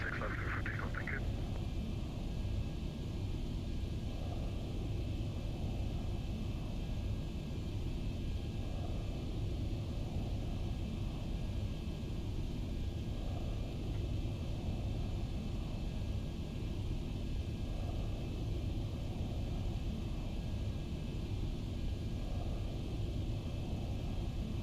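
A Boeing 737-800 in the X-Plane 12 flight simulator during its takeoff roll on runway 16 left, giving a steady, dense engine roar with broadband rumble that stays constant throughout, without voices.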